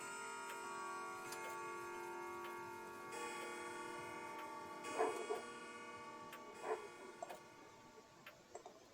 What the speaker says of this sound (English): Spring comes to the forefront, and the clock chimes the hour.